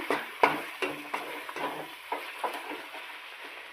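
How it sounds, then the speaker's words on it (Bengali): Cabbage curry with garam masala is stirred in a pan, a spoon scraping in steady strokes about every third of a second over a soft sizzle, close and fairly quiet. "নামানোর আগে একটু গরম মশলা দিয়ে দেবো"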